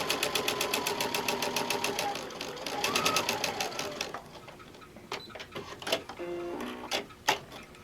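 A sewing machine runs a quarter-inch seam on a quilted pet placemat, with a rapid regular needle chatter for about four seconds that slows and stops, then scattered clicks and handling noises follow.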